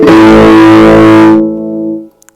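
An electric guitar plays through a Fender Japan amp with the master volume turned up: one loud, distorted chord rings out, fades after about a second, and leaves a thinner sustained tone before cutting off.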